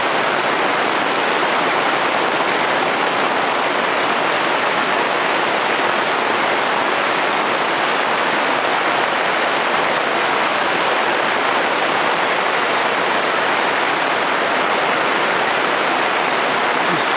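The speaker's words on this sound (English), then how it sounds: "Sure is raining out right now." Heavy rain pours steadily outdoors in the British Columbia woods, a dense, loud, unbroken hiss that continues alone for the whole stretch with no talking.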